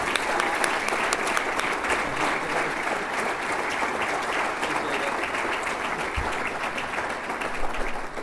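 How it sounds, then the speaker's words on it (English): Sustained audience applause fills a room at a community foundation's annual dinner, a dense, even clapping from many people that carries on loudly for the whole stretch. "Let's give her one more round of applause."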